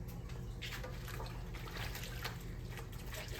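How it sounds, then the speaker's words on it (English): Hands washed under running tap water in a kitchen, a steady close trickle and splash of flowing water with faint rubbing, quiet and alone for a few seconds. "Let me wash my hand here."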